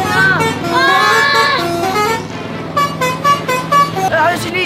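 A bus sounds its horn repeatedly and loudly while driving past, long blaring blasts followed by shorter honks over engine rumble, with people talking nearby.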